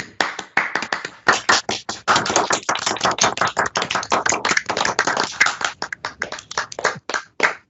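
Clapping from a handful of online symposium attendees comes through their microphones, sharp, separate claps in uneven bursts with brief gaps, sounding close, thin and a little clipped rather than like a full room.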